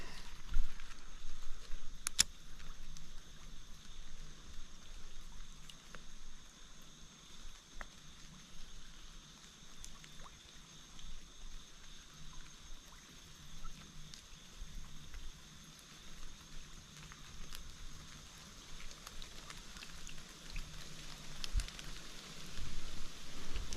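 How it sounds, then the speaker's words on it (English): Rainwater drips and patters from trees onto a fishing spot right after a big rain, a steady soft spatter with scattered sharper drops, faint and continuous with no talk. "It ain't really raining, that's what's falling out of the trees."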